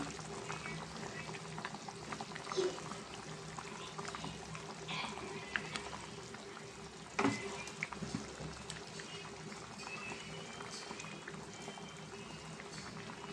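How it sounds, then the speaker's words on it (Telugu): Marinated fish pieces go one by one into a simmering spicy tamarind fish stew, a quiet bubbling and low sizzle with a few soft plops and clinks, close up and without speech. "పులుసు కొంచెం మరిగింది కదండి ఇప్పుడు దీంట్లో మనం ఇందాడు మ్యాగ్నేట్ చేసుకున్న చేప ముక్కలను వేసుకుందామండి"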